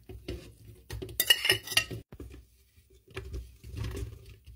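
Garlic, figs and olives being ground together for a homemade cough remedy, giving irregular scraping and clinking bursts of a utensil against a bowl, close and moderately loud with a short pause midway.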